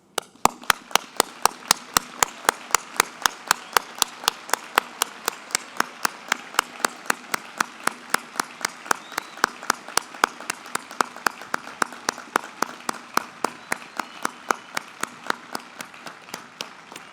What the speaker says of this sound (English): Now please hear the thunder of our applause.